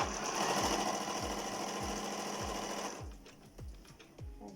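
A home sewing machine stitches pants from pha khao ma checked cotton cloth, running at a fast, even mechanical chatter for about three seconds before slowing and stopping with a few quieter clicks.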